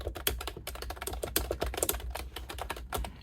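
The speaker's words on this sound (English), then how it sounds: "This is a quick review of the Mophie wireless Bluetooth keyboard" Typing on a Mophie wireless Bluetooth keyboard, a non-mechanical board with a clicky, clacky typewriter feel, gives rapid close keystrokes in an uneven but continuous rhythm.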